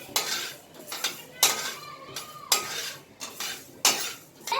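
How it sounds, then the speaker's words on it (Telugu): Fenugreek seeds are roasted in a pan for tomato pickle while a metal spoon stirs and scrapes against the pan, producing irregular, close clinks and scrapes that repeat every half second or so, with no talk. "మనం మెంతులు దోరగా వేయించాలి."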